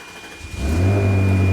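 A salvaged Ferrari's engine cranks and catches, then settles into a deep, steady running rumble, loud and close, with no talking.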